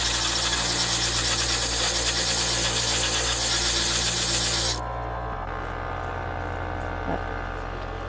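A homemade lapidary machine grinds a Cold Mountain thunderegg, a loud steady whirring with a wet gritty hiss that cuts off abruptly partway through, leaving a lower motor hum running alone.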